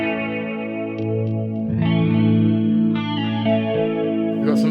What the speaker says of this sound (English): We've got some phaser going on.